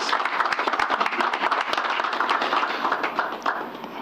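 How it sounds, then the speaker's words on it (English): Audience at a corporate presentation for a leasing company claps in a lively burst, distinct individual hand claps standing out over a dense patter that thins toward the end. "I think they deserve a huge round of applause."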